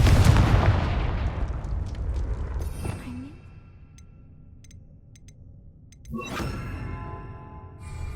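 A Confringo spell blast goes off in Hogwarts Legacy with a sharp booming explosion at the start that fades into a rumbling tail, followed by smaller magical zaps and a second burst near the end.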